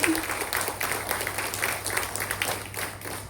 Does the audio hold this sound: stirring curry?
no